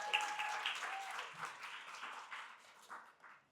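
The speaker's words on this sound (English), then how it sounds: "Let's give them a big round of applause" An audience at a summit gathering gives a round of applause. The clapping starts fairly strong and gradually thins and fades, ending in a few scattered claps.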